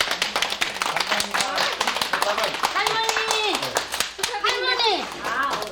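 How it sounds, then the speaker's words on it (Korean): A small gathering claps for an elderly grandmother receiving an award, sharp close hand claps with a steady rhythm while children's voices and other chatter carry on over the clapping. "박수 한번 쳐주시겠습니까?"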